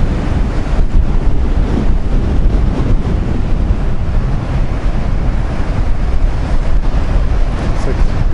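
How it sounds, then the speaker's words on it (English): Big Pacific waves crash against a breakwater near Battery Point Lighthouse in Crescent City during a winter storm, giving a continuous loud roar of surf mixed with heavy wind buffeting on the microphone. "Big waves hitting the other side of that breakwater."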